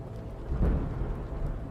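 A gray, stormy dawn near ancient ruins brings a low rumble of thunder swelling briefly over a steady wash of rain, a dense, muffled background with no voices.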